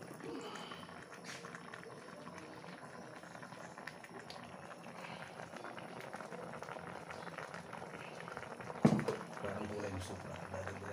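Catfish adobo with taro leaves, annatto and coconut milk simmers in a pot, giving a soft, steady bubbling throughout, with a brief louder clatter near the end.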